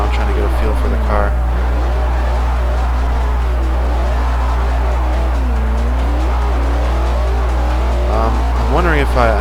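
A Chevrolet Camaro driven in Forza 4 roars steadily with a constant engine drone while tires squeal and rise in pitch through corners, loud and continuous with a voice talking over it.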